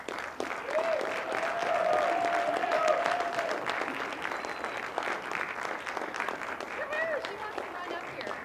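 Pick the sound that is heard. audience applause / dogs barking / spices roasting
audience applause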